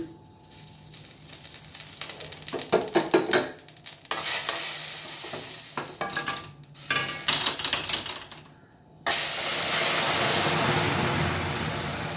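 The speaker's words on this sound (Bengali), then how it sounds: "শুধু কালজিরার ফোড়ন দেবো এখন একটু তেল দিয়েছি আর এই কালজিরা দেবো একটু" Nigella seeds hit hot oil for tempering and sizzle, a close crackling hiss broken by bursts of stirring and scraping in the pan before the frying swells into a steady loud sizzle.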